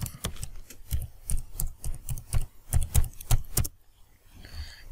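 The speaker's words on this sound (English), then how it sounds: "So you go, you type your password." Keys tapped on a computer keyboard while entering a password, heard as a close, irregular run of sharp clicks and clacks that stops abruptly near the end, leaving quiet.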